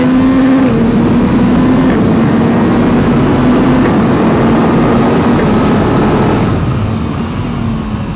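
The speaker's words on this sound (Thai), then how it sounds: "ลดเกียร์ลงมาได้อย่างรวดเร็วนะครับ แล้วก็ออกโค้งนะครับ" A Yamaha MT-09 motorcycle with automated gearbox runs on a race circuit, its engine roaring loud and steady with a sustained droning pitch that shifts slightly as it downshifts toward a corner.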